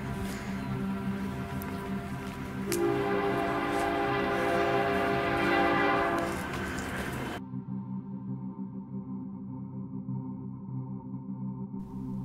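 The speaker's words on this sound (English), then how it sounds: "The train's coming." A train rumbles past the ghost town of Duran, New Mexico, with a sustained, loud roar that swells in the middle and then cuts to a quieter, fainter hum.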